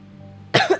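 A character coughs in the video game Twin Mirror, two quick close coughs after a near-silent moment.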